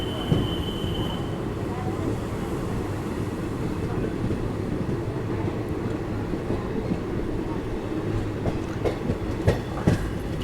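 Wheels of a long-distance Indian express train clatter over track switches after Lalitpur junction, a continuous rolling rumble with sharp irregular clacks growing busier toward the end, heard from inside the train.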